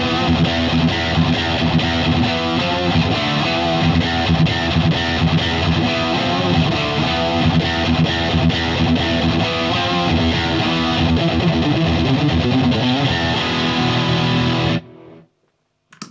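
Overdriven electric guitar through a Steel Panther Pussy Melter Overdrive pedal playing continuously with a gritty, saturated tone, loud and sustained before cutting off abruptly near the end.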